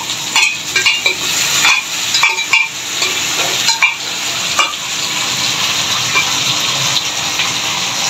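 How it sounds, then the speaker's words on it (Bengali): Boiled meat and dal being stirred and sautéed in a hot pan, a loud, close, continuous sizzle with repeated scraping strokes of a spoon against the metal. "এখন একটু মাংসটা এটা ডালটার সাথে একটু কষিয়ে নিচ্ছে।"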